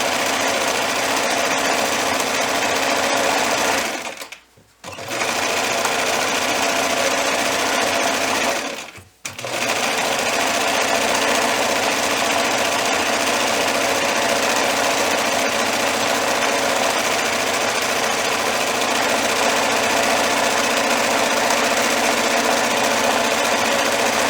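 A sewing machine stitches fabric for a snake stuffie, a loud close motor whir with rapid needle chatter that runs continuously, breaking off in two brief pauses before resuming to the end.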